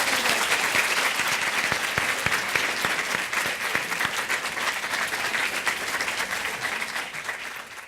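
An audience gives a sustained round of applause for the panelists at the close of a university media talk, dense steady clapping from a crowd that continues throughout and thins slightly near the end.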